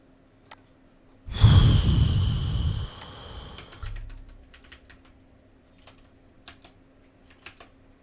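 A computer keyboard is typed on in a quick burst of clicks, starting loud with a rush of breath or sigh and then trailing into scattered lighter taps.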